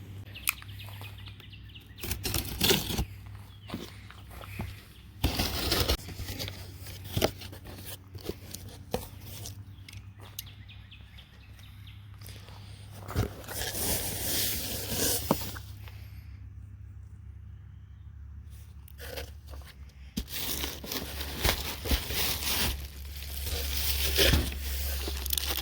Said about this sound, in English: get my knife out and we'll unbox one of these